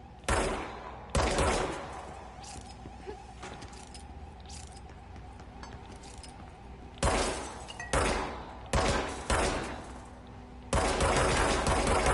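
Gunfire in the video game Control: loud bursts of rapid shots with shattering impacts, separated by stretches of quieter ambient background, then repeated volleys close in front.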